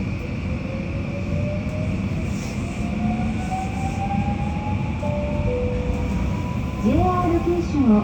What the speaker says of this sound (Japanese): この列車はワンマン熊本行きです。